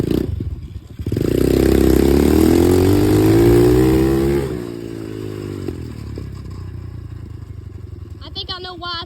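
A dirt bike engine revs hard, rising from a low idle into a loud, sustained climbing whine for several seconds before dropping back to a rough idle, with brief voices at the end.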